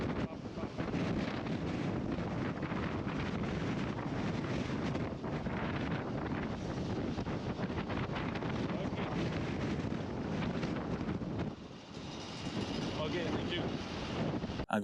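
Strong storm wind buffets an exposed bridge in Norway during a moped ride, a loud, unbroken roar of gusts battering the microphone for the whole stretch, dipping briefly near the end.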